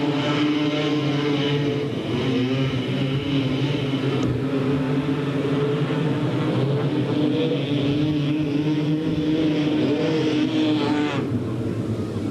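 Stock cars race at Delta Speedway in 1997, with several engines roaring together in a loud, continuous drone that rises and falls as the cars pass, with no talk.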